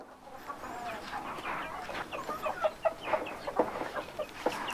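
Chickens and small chicks clucking and peeping close by in a farmyard, a busy run of short overlapping calls that grows livelier toward the end, with no talk over it.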